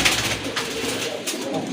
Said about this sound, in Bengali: খুবই কিউট একটা নর কবুতর